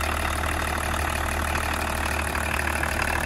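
An old BMW diesel engine idles loudly and steadily, a continuous low rumble with a faint knocking texture that holds without change.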